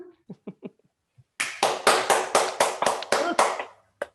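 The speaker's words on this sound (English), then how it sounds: "people to unmute themselves and clap" Virtual audience clapping over an online call after a conference talk: a few scattered isolated claps, then a burst of several people clapping in uneven rhythm for about two seconds, ending with one final clap.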